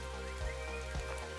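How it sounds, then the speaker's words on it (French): Rain falls across an open landscape on a daytime at the end of April, a quiet, even patter heard from a distance with no voices. "En plein jour de pluie."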